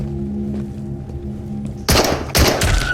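Gunfire in the video game Into The Radius arrives as two loud, close bursts of rapid automatic shots in the second half, after a quieter humming background.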